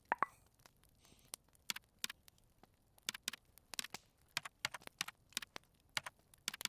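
Quiet keystrokes tapping on a computer keyboard at an irregular pace while a message is typed during a Rec Room game session, each click crisp and close, with no talking.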